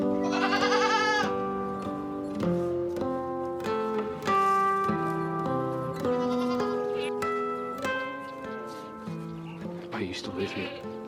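Goats bleating in a goat pen among the ruins of a house in India, repeated wavering calls over a backing of music.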